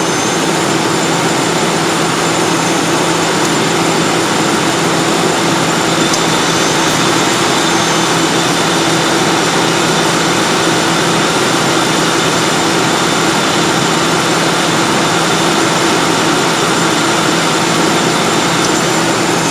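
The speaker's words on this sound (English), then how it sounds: "You can see the compressor staying engaged a lot longer now." A 1995 Ford Crown Victoria engine runs with its A/C compressor engaged, a loud, steady, dense mechanical drone and whir heard close up, unbroken for the whole stretch, with no talking.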